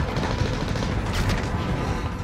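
Continuous gunfire in the Warzone video game, a dense, moderately loud stretch of rattling shots and booms with no clear gaps.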